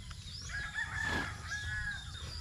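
A rooster crows once, a fairly faint drawn-out call over a low background rumble, with no one speaking.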